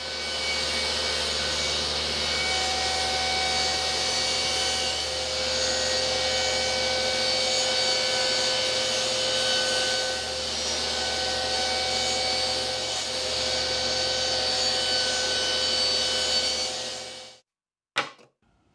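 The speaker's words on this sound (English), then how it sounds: "I'm just cutting that roughly with the jigsaw" Jigsaw roughly cutting a wooden panel for a DIY powered subwoofer enclosure, a steady close buzzing rasp running continuously for about seventeen seconds before stopping abruptly, followed by a brief final clunk.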